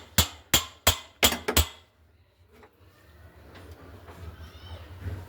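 A Phillips screwdriver works at a UPVC plumbing trap, five sharp, close knocks in quick succession, then quieter scraping and handling noises that fade into low background rustle.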